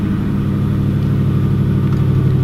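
Ford F250 pickup truck accelerating, with a loud, close, steady engine rumble and roar running unbroken through the whole moment, with no talking.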